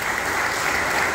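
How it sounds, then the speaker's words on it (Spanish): A congregation applauding during a Sunday Mass in church, dense steady clapping that fills the whole moment without a break. "Les damos un aplauso."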